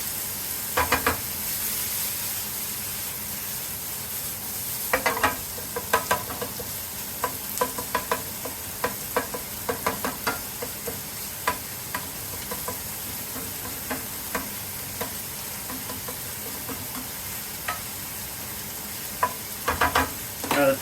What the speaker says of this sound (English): I'm going to turn this down a little bit since it's boiling so well.